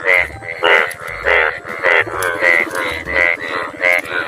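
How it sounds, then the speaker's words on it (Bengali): Cartoon frogs croak in a quick repeating rhythm, loud, close and strongly pitched, each call a short pulsing burst with low throbbing underneath, no talking over them. "এ তো ব্যাঙের ডাক"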